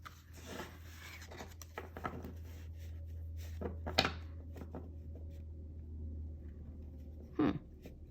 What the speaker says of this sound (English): Well, that was an interesting, clumsy shuffle.